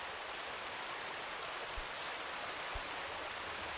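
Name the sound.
waterfall in climbing video game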